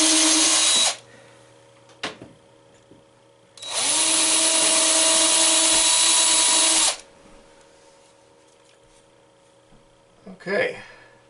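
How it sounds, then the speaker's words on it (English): A power drill with a 7/64 bit bores two holes in a pinball playfield, running in two loud high whirring bursts of about one and three seconds, with quieter handling clunks and knocks between them. "to drill these 2 holes."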